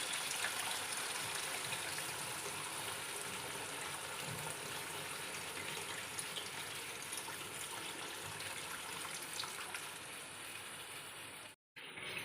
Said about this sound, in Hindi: अब मैं इसमें 1 लीटर पानी डालूँगी।